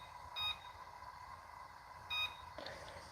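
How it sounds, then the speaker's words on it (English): A kitchen timer gives two short electronic beeps about two seconds apart while being set, faint against a quiet kitchen background. "let's set a timer."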